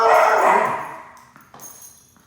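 A dog gives one short whining yelp that fades over about a second, followed by faint scattered sounds nearby.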